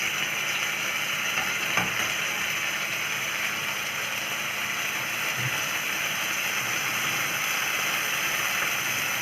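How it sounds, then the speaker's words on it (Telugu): Tomatoes and green chillies frying in a pan after mustard seeds have popped, for a pepper rasam, giving a steady close hiss and sizzle with a few faint clicks and stirring knocks. "ఆవాలు చిట్పండి ఆడాక టమాటాలు వేయాలమ్మా. టమాటాలు, కొంచెం పచ్చిమిర్చి,"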